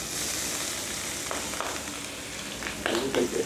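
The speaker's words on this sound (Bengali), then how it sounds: "এই যে বড় তাওয়ায় তেল গরম হচ্ছে, এটা ভেজে নেওয়া হবে।" Marinated boal fish fries in hot oil on a large griddle, giving a constant, dense sizzle with faint voices briefly audible near the end.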